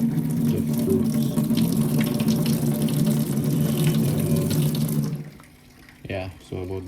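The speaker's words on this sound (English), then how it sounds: "Fill it up with water." Water running steadily from a tap into a container of guava fruits for homemade juice, a continuous splashing stream that stops near the end, followed by a few brief sloshing sounds.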